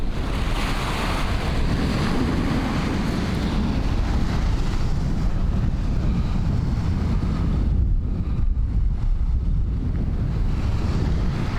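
Heavy, continuous wind buffeting a lavalier microphone with a windsock, a loud low roar with gusty rumble throughout and a brief lull near the end.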